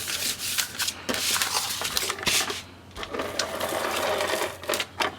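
A tape runner lays adhesive strips on a scrapbook cover with close, rapid clicking and rasping strokes in repeated short runs, briefly pausing between passes.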